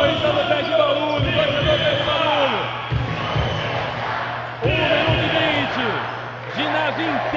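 Corinthians fans keep up loud, roaring crowd noise in an indoor basketball gym during an NBB game against Botafogo, with rhythmic chanting, ball bounces and shouts, heard under a commentator's continuous talk.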